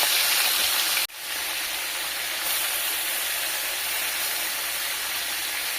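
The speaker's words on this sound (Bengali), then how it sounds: "তেল গরম হয়ে এসেছে, আমি চিকেনটা এক এক করে দিয়ে দিচ্ছি" Chicken pieces fry in hot mustard oil for a home-style biryani, giving a loud, continuous broad sizzle that drops out briefly near the start and then resumes steadily, with no talking.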